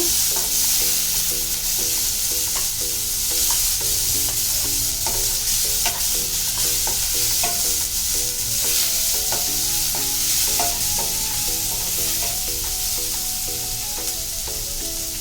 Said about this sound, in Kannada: ಇವಾಗ ಈರುಳ್ಳಿ ಫ್ರೈ ಆಗಿದೆ